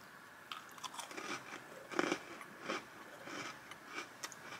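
Oreo cookies being bitten and chewed, soft close crunches in an irregular rhythm, fairly faint, with no talking.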